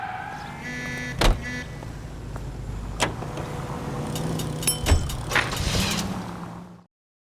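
Car driving in the 1940s Los Angeles crime game L.A. Noire, a steady low engine hum running throughout with a few sharp clunks and knocks over it, then cutting off abruptly near the end.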